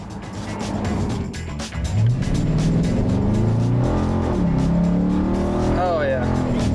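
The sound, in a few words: supercharged Hemi Dodge Charger accelerating in Sport Plus mode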